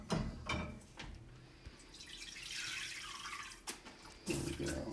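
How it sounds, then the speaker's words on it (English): Cooked pasta noodles are drained in a sink, water rushing and splashing into the basin in a fairly steady wash with a few clunks and drips at the start and end. "This is probably the hardest part, draining it without losing the noodles"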